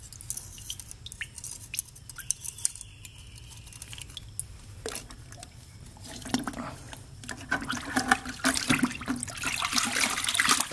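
A trailer hub hanging on a wire is swished back and forth in cleaning liquid, giving irregular sloshing and splashing that grows busier and louder toward the end, with scattered knocks.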